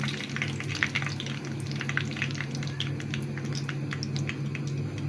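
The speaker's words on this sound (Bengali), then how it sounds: "পরবর্তী মাংসটিও আমি এভাবেই ভেজে নিচ্ছি।" Chicken pieces fry in a pan for chilli chicken, giving a steady close sizzle dotted with small crackles and pops over a low hum.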